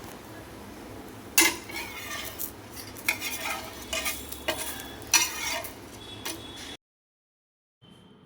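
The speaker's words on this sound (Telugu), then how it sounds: "మార్నింగ్ దోసలు వేసుకుంటున్నాము" Dosas cooking in a pan at home on a Diwali morning, soft sizzling under sharp metallic clinks and scrapes of a spatula, ending abruptly in silence before a faint return.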